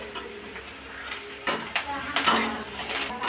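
Tadka for dal being cooked in a pan over a low flame with onions, a soft background sizzle broken by metal spoon clinks and scrapes against the pan, close and fairly quiet.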